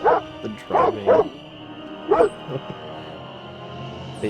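Dogs barking and whimpering, a few sharp excited barks in quick succession, then a lone bark and soft whines trailing off into quiet, close and clear.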